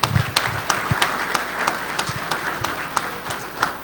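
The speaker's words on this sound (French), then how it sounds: "Encore sous vos applaudissements, s'il vous plaît" An audience applauds steadily, many hands clapping in a dense, continuous patter with a few louder individual claps standing out.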